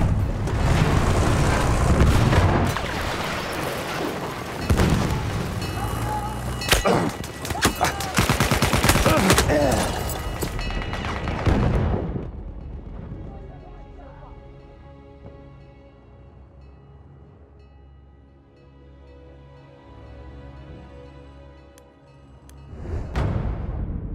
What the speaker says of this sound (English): Artillery barrage to stop firing.